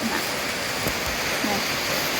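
Steady, dense hiss of heavy rain pouring down, constant and enveloping, with a couple of faint low thumps underneath.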